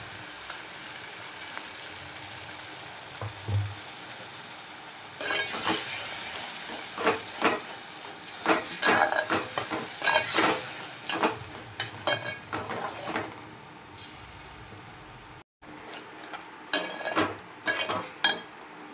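Ground masala paste with Kashmiri red chilli sautéing in hot oil for a desi chicken curry, a steady loud hiss and sizzle broken by repeated scraping and stirring clatters of a spoon against the pan, with a brief gap near the end.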